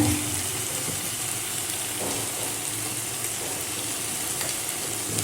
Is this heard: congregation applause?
no